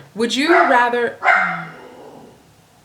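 A dog barks twice close by, two sharp, loud yaps with a short gap between them, followed by a moment of quiet room tone; no other sounds compete with the barking.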